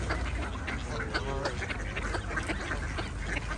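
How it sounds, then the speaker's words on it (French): Ducks quack several times at a moderate distance over steady outdoor background noise, with no clear speech. "on va y aller s'occuper des canards."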